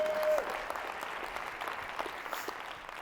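A keynote audience claps steadily in a broad, even wash of applause that holds for several seconds, with a brief tone near the start.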